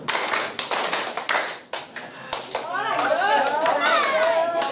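A group of people claps together in counted patterns: sharp, separate claps in short bursts come first, then faster, denser clapping, with a leader's voice calling the counts over the top.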